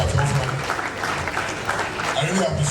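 A crowd at a movie premiere event claps in a brief, dense burst, mixed with crowd noise and overlapping voices at close range.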